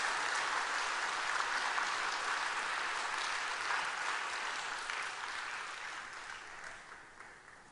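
A Korean church congregation claps in thanks for a departing pastor, a broad, even round of applause filling the room that gradually fades toward the end.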